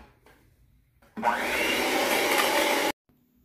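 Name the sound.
mixing muffin batter with vanilla, likely an electric mixer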